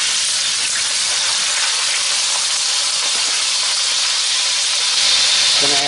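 Home-raised pork from a hobby farm sizzles in oil in a pan, a continuous close hiss and crackle that swells slightly near the end, with no talking.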